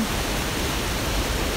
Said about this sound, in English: Look at this river behind me as I talk.